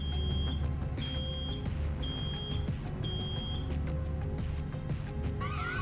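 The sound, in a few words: alarm beeping in the video game Road 96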